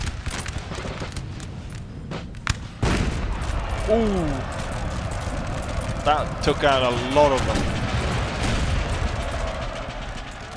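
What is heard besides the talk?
cannon fire from the video game Napoleon Total War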